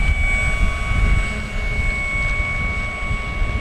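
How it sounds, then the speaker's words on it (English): An FMS Corsair 1700mm radio-controlled warbird with an upgraded 360KV electric motor taxis on grass, its motor giving a steady high whine with tonal hum over a low rumbling ground noise, fairly close and without speech. "I'm going to taxi it on out a little bit because this thing just taxis so nice on grass."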